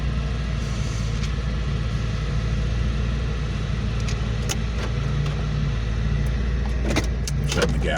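A car engine idles with a steady low rumble, then near the end sharp clicks and a jingle of keys are heard as the engine is shut off, close inside the cabin, with no voices.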